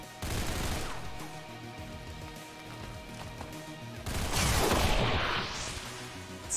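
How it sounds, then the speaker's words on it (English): Pistol shots in the video game XCOM 2, heard as sharp synthetic gunfire bursts over a low game soundtrack, with a loud crashing impact midway and no talking. "we also got a pistol shot here"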